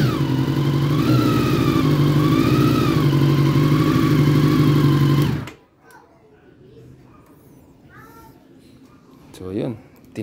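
A Honda CB1 motorcycle fitted with a modified 5-liter dirt bike fuel tank idles loudly and steadily for about five seconds, then shuts off, leaving near quiet with faint talk and small noises.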